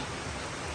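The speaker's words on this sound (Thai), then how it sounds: "ฝนตกแล้วออโต้เอ้ย" Steady rain falls outdoors, a soft, even hiss of drops with no voices or other sounds over it.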